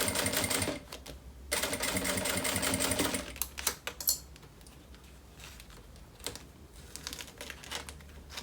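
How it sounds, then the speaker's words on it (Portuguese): Sewing machine stitching fabric in a straight line for a zipped roll-style toiletry pouch: fast rapid needle clatter in bursts, pausing between runs, with quieter handling clicks and rustles near the end. "E agora eu vou costurando aqui"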